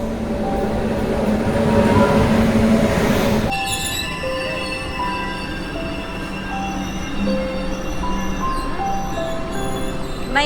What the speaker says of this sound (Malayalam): സത്യഭാമയുടെ ട്രെയിൻ എത്തി പോവുകയാണ്.